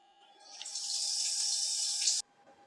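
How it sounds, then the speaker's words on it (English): Tap water runs at a kitchen sink, rinsing soybeans in a small strainer: a steady hissing stream that starts, holds for about a second and a half, then stops abruptly, fairly close and alone. "We're gonna take them over to the sink, and we're gonna rinse until all the bubbles are gone."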